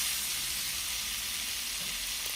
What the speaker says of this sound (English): I'm going to be stir frying this cabbage on a medium heat